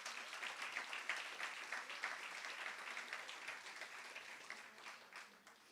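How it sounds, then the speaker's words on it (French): An audience applauds at the launch event of a regional magazine, with steady dense clapping from many hands that lasts the whole stretch and tapers slightly at the end. "On peut les applaudir."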